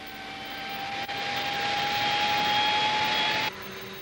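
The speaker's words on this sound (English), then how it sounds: "The engines are also run up to speed on the ground." Aircraft engines running up to speed on the ground, a steady loud jet roar with a high whine that holds throughout, briefly dipping near the start and dropping in level toward the end.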